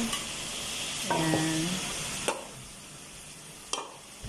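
Ground chicken fries and sizzles in a pan during a rainy typhoon spell, a steady crackle broken by several sharp stirring scrapes and knocks of a utensil against the pan, with a person briefly speaking once.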